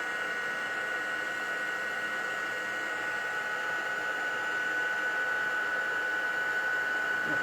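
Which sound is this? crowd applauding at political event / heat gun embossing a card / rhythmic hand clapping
heat gun embossing a card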